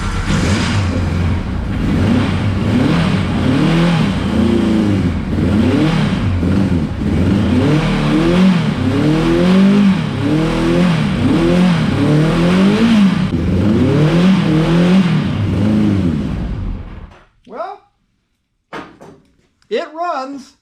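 A 1985 Kawasaki 1100 LTD motorcycle engine fires up on brake cleaner sprayed into the intake and runs roughly with uneven revving, loud and close for about seventeen seconds before cutting out, with a few clanks afterward.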